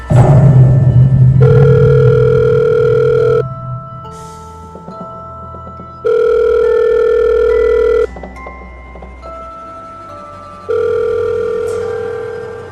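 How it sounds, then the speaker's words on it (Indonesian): A mobile phone rings in an animated horror cartoon, sounding a loud electronic tone in three long bursts with short gaps between them, clear and close, with no speech. "Aku lemas ketakutan sampai handphoneku tiba-tiba berbunyi."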